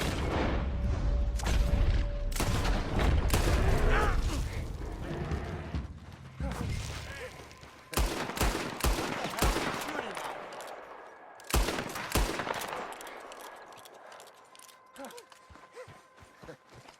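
Rapid gunfire rattles through a firefight in the video game Red Dead Redemption 2, dense bursts of shots and booms at first, then sharper separate shots with shouting voices in between.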